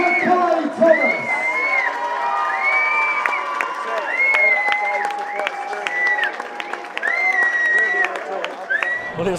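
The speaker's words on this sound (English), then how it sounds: "please, a round of applause for Kai Thomas" A boxing arena crowd applauds and cheers the winner Kai Thomas after a three-round bout, a loud, dense wash of clapping and shouts with whoops, while an announcer talks over it.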